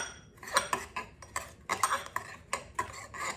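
A spoon scrapes and clinks against a bowl of frozen acai in a series of uneven stirring strokes, crunchy and icy, close and fairly quiet with no talking.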